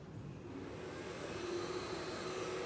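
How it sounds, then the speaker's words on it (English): Portable fiber laser marking machine running after power-up, giving a faint, steady hum and whir with a thin high tone, alone with no talk. "You can hear the sound, the laser system is running right now."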